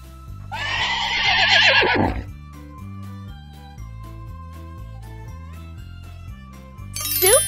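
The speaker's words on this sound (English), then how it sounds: "Horse." A horse lets out one loud, shrill neigh lasting about a second and a half, followed by a tinkling electronic jingle from a preschool animal-sounds toy, and then a second whinny begins at the end.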